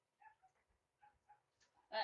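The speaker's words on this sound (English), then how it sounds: "Now you can hear Teeter barking in the background" A dog gives a string of small yips and whimpering barks, faint and a little distant, ending in one louder sharp bark.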